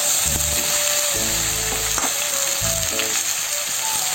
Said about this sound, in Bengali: এই যে কচুরলতিটা একটু হালকা ভাজা করে নিচ্ছি,